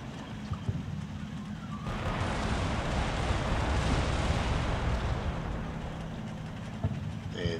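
In the Cold War tactical game Combat Mission, an artillery barrage lands on a motor rifle battalion attack. A low rumble of blasts swells in after a quiet start and grows into a heavy, continuous roar with scattered impacts.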